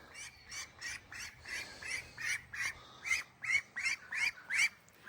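Ducks quacking in a steady series of about a dozen raspy calls, close and fairly loud, one after another with short gaps and no talking.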